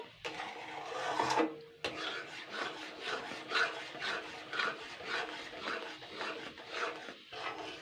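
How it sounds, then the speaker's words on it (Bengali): A spoon scrapes and rubs rhythmically against a pan while thick cornflour Karachi halwa is stirred, producing steady close-up rasping strokes that repeat about once a second. "তো দেখুন এইভাবে নেড়েই যাচ্ছি নেড়েই যাচ্ছে এরকম করে নেড়েই যেতে হবে"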